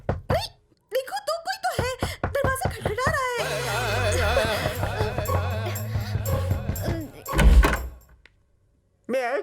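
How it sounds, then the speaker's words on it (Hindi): Knocking on a house door in a Hindi film scene, a few quick raps at the start between spoken lines, followed by dialogue over background music. "नहीं, देखो तो कोई तो है, दरवाजा खटखटा रहा है।"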